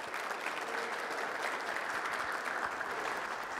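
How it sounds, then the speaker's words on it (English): An audience gives a round of applause to celebrate a graduate's accomplishment, an even, sustained patter of many hands clapping at moderate volume with no voices over it. "So one more time, a big round of applause for Romy."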